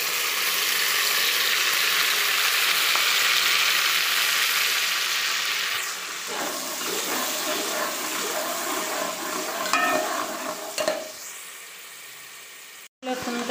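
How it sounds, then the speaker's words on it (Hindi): Ginger garlic paste sizzles in ghee in a pan as a loud, steady hiss of frying, which eases partway through, with faint scraping and stirring and a brief clatter near the end, and no talk. "अब मैं इसमें अदरक लहसुन का पेस्ट डाल के तब तक उसको फ्राई करूँगी जब तक उसका अदरक लहसुन की खुशबू ख़त्म ना हो जाए।"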